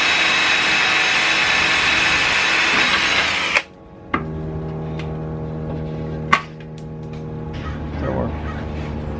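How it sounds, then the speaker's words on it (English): A power drill whines loudly and steadily for several seconds while drilling a hole for mud flaps on a Mazda Miata, then stops abruptly, followed by quieter motor hum and a couple of sharp clicks. "you're gonna have to be drilling a hole right around here"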